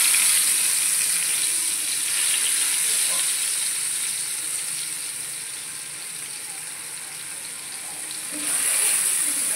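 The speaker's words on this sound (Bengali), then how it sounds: "এখানে তেলও গরম হয়ে গেছে, আমি তেল দিয়ে দিয়েছিলাম। এবার আমি একে একে মাছগুলো ছেড়ে দেবো।" Hilsa fish with roe, rubbed with salt and turmeric, sizzles in hot oil: a steady, close frying hiss that dips slightly midway and swells louder near the end, with no talking.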